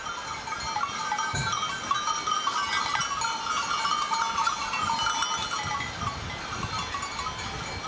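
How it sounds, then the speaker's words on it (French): Goats arriving back at a farm and their barn, with scattered bleats and a clanking bell over a steady murmur of a herd at moderate distance. "Arrivés à la ferme, les chèvres retrouvent leur étable."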